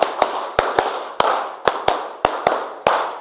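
A class performs a rhythmic clapping ice-breaker, with about nine sharp, loud group claps in an uneven counted pattern that bunches into pairs, with no talking over them.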